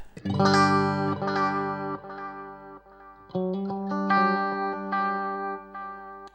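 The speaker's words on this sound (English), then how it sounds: "Kind of clean repeats to tape style sound, even with the flutter effect." Electric guitar played through a Replex tape-style delay with flutter, sustained chords and notes ringing out with wobbling, slightly smeared echo repeats, loud and close with no talking.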